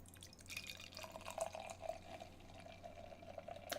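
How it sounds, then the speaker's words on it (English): Imperial stout beer poured into a Harpoon snifter glass, faint liquid trickling and dripping with small splashes over a low steady hum. "Let's get into the theatrics of a 5-minute pour."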